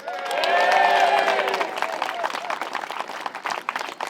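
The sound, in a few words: audience cheering and applauding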